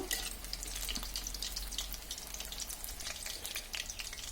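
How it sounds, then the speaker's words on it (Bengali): Capsicum pakoras and chillies frying in oil, a faint, steady crackling sizzle with small pops, heard alone with no voices. "এখন আমরা এগুলোকে নামিয়ে বাকি যে পাকোড়া আর মরিচগুলো আছে সেগুলো ভেজে নেব"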